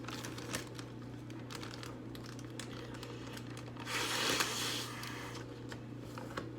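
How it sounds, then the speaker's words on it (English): A gallon-size plastic zip baggie crinkles as it is filled and partly zipped, with light rustling building to a louder, denser crinkling burst midway before settling back to soft handling noises. "you just fill it in gallon baggies, and then you zip it up part way."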